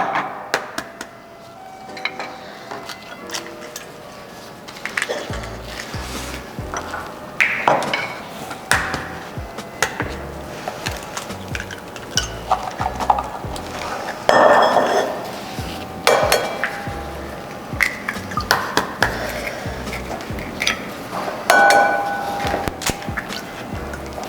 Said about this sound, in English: we're going to crack 4 eggs into the bowl